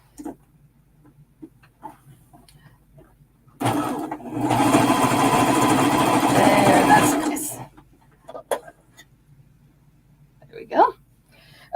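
A Viking Emerald 118 sewing machine runs in one steady burst of stitching lasting a few seconds, close and fairly loud, with faint sounds before and after and no talk over it.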